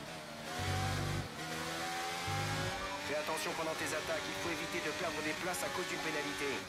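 An F1 race car engine from F1 23 drones at high revs in a steady, layered whine, rising and shifting pitch through the gears, with someone talking over it.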